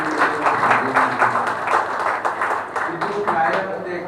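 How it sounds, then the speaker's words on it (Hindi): An audience at a book inauguration applauds the writer of a Hindi grammar book, steady and moderately loud clapping throughout with voices murmuring underneath. "इसके लिए हम लोगों की ओर से उन्हें जोरदार तालियां बजा कर"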